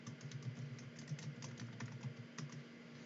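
Fast, steady typing on a computer keyboard, many light key clicks in quick succession, close by over a low background hum, with no talking.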